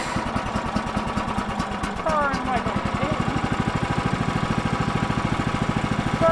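A sawmill's small engine cranks over, catches and settles into a steady, close running chug that rises a little with throttle, with a person speaking briefly over it.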